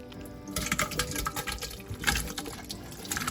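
Tomatoes slosh and glug as they are poured into a big pot for canning, a close, wet, pulsing liquid pour that starts after a brief quiet moment and continues unevenly.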